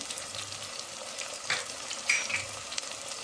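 Gongura curry in a pan is stirred as ginger-garlic paste, salt, clove powder, coriander powder and turmeric are mixed in, with a soft sizzle under light scraping and a few clinks.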